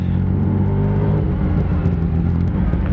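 Motorcycle engine fitted with a full aftermarket exhaust, riding on a highway; a loud, steady low rumble with a slight shift in pitch partway through, close and continuous with no talking.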